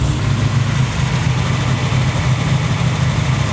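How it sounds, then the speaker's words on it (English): A cold engine fitted with a freshly rebuilt Holley 4150 Brawler carburetor idles high, a loud, steady, unbroken rumble with constant vibration throughout. "Idle is high. Dang, that thing fired right up."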